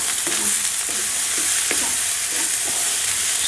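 Chicken fried rice being stirred and tossed in a hot pan with cold rice heating up, a loud continuous sizzle broken by repeated scraping strokes of a utensil against the pan, no talking.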